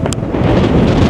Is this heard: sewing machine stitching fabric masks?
no